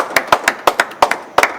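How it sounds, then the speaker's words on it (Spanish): Applause for Alberto comes as about nine separate, sharp hand claps in an uneven rhythm, close and crisp, more like a few people clapping than a full crowd. "Aplauso para Alberto, por favor."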